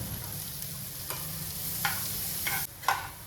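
Chopped onion and corn fry on a hot tawa for a pizza topping, giving a steady close sizzle with a few soft stirring scrapes and no talk.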